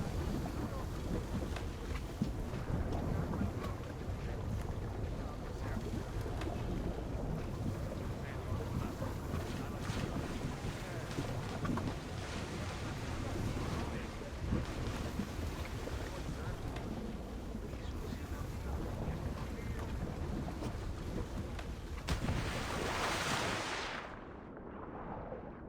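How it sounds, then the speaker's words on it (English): Ocean waves in a video game wash steadily as an object sinks beneath the surface, a continuous, dense rushing roar that holds for the whole stretch and thins out near the end. "It's going beneath the ocean waves."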